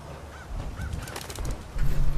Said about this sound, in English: Are these crows cause for concern?